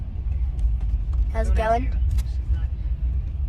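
A steady low road rumble fills a car interior while driving in California, with a short spoken greeting midway and faint clicks.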